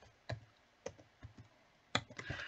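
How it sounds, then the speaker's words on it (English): Typing an IP address on a computer keyboard while setting up a Raspberry Pi 4: a few sparse, soft key clicks spaced apart, then a quick cluster of taps near the end, quiet and with no talking. "So let me just type mine in."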